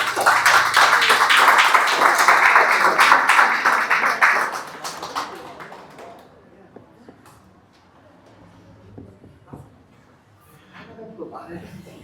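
A church congregation applauds loudly for about four seconds, then the clapping dies away to quiet shuffling and scattered taps while a voice talks on.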